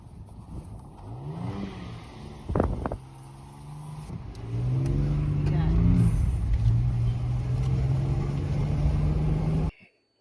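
A Jeep XJ pushes through snow. Its engine hums under a voice at first, then revs up into a loud, steady drone that continues until it cuts off abruptly.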